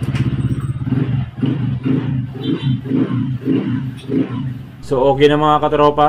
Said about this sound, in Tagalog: umandar na yung motor ni boss